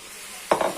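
Chopped onion hits a hot frying pan, and after a moment of quiet a loud sizzle bursts up and keeps crackling.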